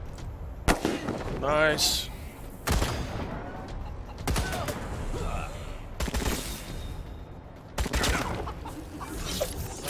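Gunfire in the turn-based game Wasteland 3, a series of sharp, loud shot bursts spaced a second or two apart, with a 50 cal weapon and turret involved, and brief speech between them.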